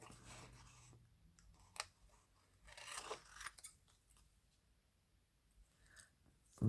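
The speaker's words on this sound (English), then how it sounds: "where are my scissors? I'm just going to roughly, not roughly, but cut around" Scissors snip around a paper tag shape during a craft session, giving quiet, close crisp cuts and clicks in an irregular rhythm over a soft background.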